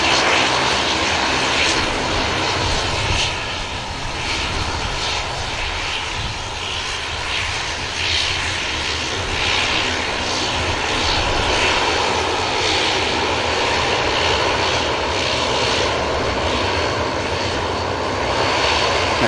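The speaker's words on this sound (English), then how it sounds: "wonderful Dash 8 of Luxor, heading back to Luxembourg. Another beautiful sounding aircraft" A Luxair Dash 8 turboprop taking off at an airport, its propeller engines roaring loud and steady throughout with a broad, sustained drone and no talking.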